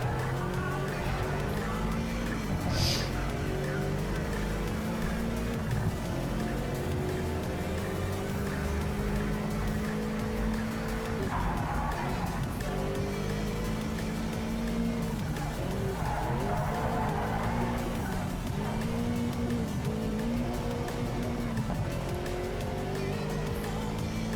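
Race car in Project Cars 3 at speed, a loud continuous engine drone rising through gears with repeated tire squeals and skids as it corners, no talking.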